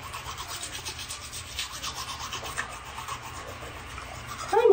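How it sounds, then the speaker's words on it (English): Teeth brushed with a toothbrush and Riswell mineral toothpaste in a bathroom, a close steady scrubbing rub in quick repeated strokes throughout, with no talking. "Riswell mineral toothpaste and their toothbrush"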